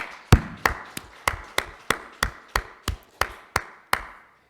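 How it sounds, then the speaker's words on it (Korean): A church congregation at a Korean Sunday worship service claps in tight unison, about a dozen sharp, evenly spaced claps in a steady rhythm, close and clear, ending abruptly. "자, 우리 하나님께 감사의 박수 하겠습니다."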